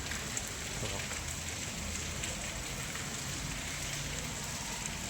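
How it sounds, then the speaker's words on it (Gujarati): Gentle, steady rain without wind falls under a cloud-covered sky, making an even, unbroken hiss of drops on surfaces that stays constant throughout. "ધીમી ધારે વરસાદ ચાલુ છે પવન નથી તોફાન નથી"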